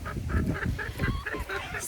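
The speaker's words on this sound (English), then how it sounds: "A little hen fight right there." Hens on a Florida farm squabble in a short fight, letting out loud, close, harsh squawks and honking clucks in quick overlapping bursts.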